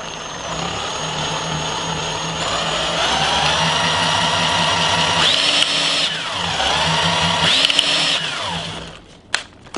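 Electric drill spinning a ceiling fan alternator at high speed: a loud, close, whining motor drone that rises in pitch, dips and climbs again twice with rattling, then winds down near the end.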